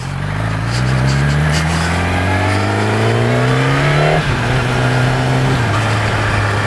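Decatted car engine revving loud and close through a throaty new aftermarket exhaust pipe, pitch climbing steadily through a long pull before dropping and settling into a lower, rumbling drone.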